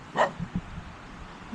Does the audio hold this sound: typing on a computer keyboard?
no